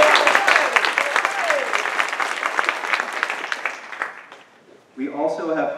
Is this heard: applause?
yes